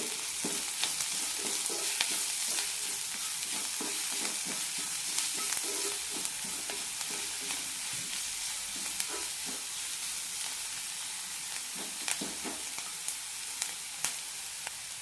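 Onion masala with turmeric and salt stirred in a pan, a steady frying sizzle under repeated scraping stir strokes, close and even throughout with no talking.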